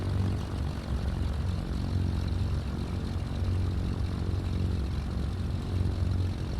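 A Cessna 310 twin-engine propeller aircraft passing in Microsoft Flight Simulator 2020, a steady loud droning engine roar with a throbbing low pulse and no talking.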